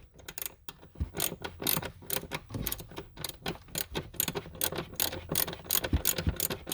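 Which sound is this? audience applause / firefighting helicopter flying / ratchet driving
ratchet driving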